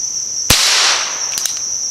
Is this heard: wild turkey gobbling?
no